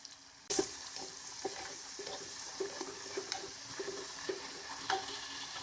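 Green chilies and spices such as cloves and bay leaf frying in oil for a stuffed brinjal curry, a quiet steady sizzle with soft stirring taps in a rough repeating rhythm.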